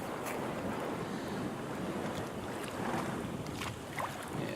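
Constant loud wind rumble buffeting a Sony Handycam fitted with a homemade wind suppressor outdoors, a dense roar with no talk.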